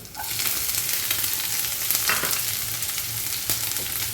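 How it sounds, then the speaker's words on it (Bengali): A generous amount of onion fries in a pan with garlic for Lote fish curry, giving a loud, dense, continuous sizzle with occasional stirring scrapes, up close and with no one talking. "পেঁয়াজটাকে খুব ভালো করে প্রথমে ভেজে নেব"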